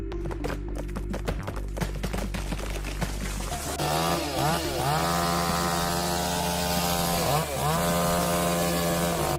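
Chainsaw cutting down a tree, loud engine whine rising and falling in pitch as it revs and bites into the wood, preceded by clattering knocks.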